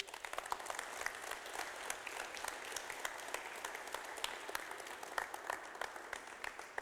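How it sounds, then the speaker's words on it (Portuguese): A church congregation at a Sunday service claps for Jesus in a sustained, even round of applause, heard faint and distant throughout with individual sharp claps poking out of the wash. "Dá uma salva de palmas para Jesus."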